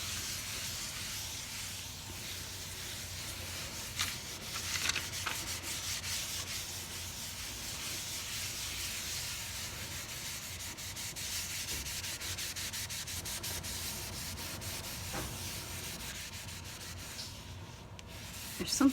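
Continuous close scrubbing during household cleaning, a steady rough rubbing hiss that runs unbroken with a few slightly louder strokes and no talk.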